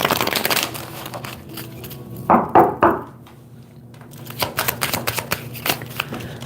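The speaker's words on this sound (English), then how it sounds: "Let me shuffle these cards first." Cards are riffled and bridged in a few quick bursts, crisp and close, surrounded by quiet room tone and soft handling noises.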